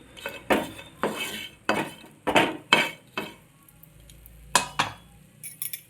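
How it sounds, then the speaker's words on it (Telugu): Flattened rice (poha) frying in a pan, heard as a series of distinct scraping and clinking stirs of a utensil against the pan with a faint sizzle between strokes, no talking. "చూడండి అది ఫ్రై అవుతుంది ఇవి కూడా ఫ్రై అయిపోయినాయి"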